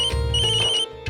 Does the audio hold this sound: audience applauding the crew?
no